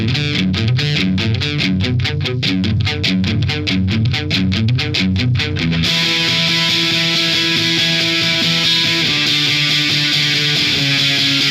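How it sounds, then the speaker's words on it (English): A distorted electric guitar plays a fast riff of chugging, rhythmic chords, then shifts into sustained, ringing distorted notes. It is loud and close throughout, with no talking. "I could add some distortion, make it a bit faster"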